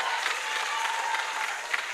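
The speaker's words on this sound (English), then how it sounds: "Let's keep the applause going." Audience at a tertiary business competition grand finale applauds a winning university, a dense, continuous wash of clapping from a large crowd, steady throughout.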